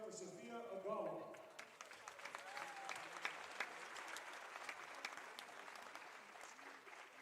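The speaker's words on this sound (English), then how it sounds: "Fans, how about one more round of applause for the BC cheerleading team" Basketball fans in a gym at a women's college game applaud a senior cheerleader, a steady wash of clapping from a moderately distant crowd, with an announcer's amplified voice at the start.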